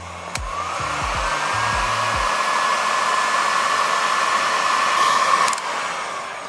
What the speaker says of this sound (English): I'm gonna plug it in, make sure it works, and then we'll heat shrink them on